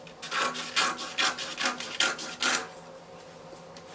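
Fabric for wide-leg palazzo pants being cut along a pattern makes a series of short, crisp rasping strokes in an irregular rhythm, close and moderately loud, then tails off into quiet.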